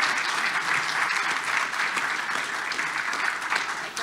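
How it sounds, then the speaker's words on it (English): A crowd claps steadily and loudly, dense applause that holds at an even level throughout with no break. "Everybody, round of applause for this"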